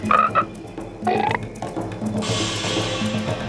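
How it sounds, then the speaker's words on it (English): Green tree frog croaking in short, loud bursts, a few separated calls that give way to a denser chorus of croaks over a low background hum. "Even if you're a green tree frog."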